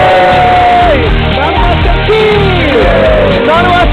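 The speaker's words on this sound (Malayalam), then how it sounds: "എല്ലാരും കൂടെ ഒരു ആർപ്പുവിളി." Crowd cheering and whooping after a street magic trick in which a performer produces around a hundred blades, with loud shouts and yells rising over steady crowd noise throughout.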